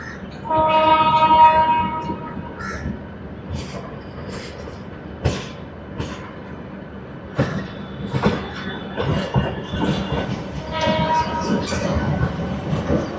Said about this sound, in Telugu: మనల్ని క్రాస్ చేసుకుని లోకల్ ట్రైన్ వెళ్ళిపోతుంది